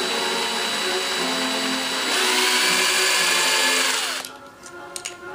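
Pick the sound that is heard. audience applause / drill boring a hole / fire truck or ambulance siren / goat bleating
drill boring a hole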